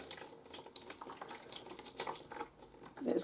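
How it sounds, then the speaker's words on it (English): Water drains away through wet paper pulp resting on netting, a soft, irregular trickling and gurgling at close range that swells slightly toward the end. "There's kind of a satisfying noise going on underneath as the water drains away"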